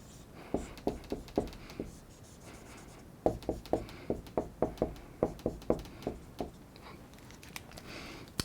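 Marker or pen strokes drawing bond dipoles on a board during a high school chemistry lesson on molecular polarity, a steady series of short scratchy taps in two clusters, close and fairly quiet.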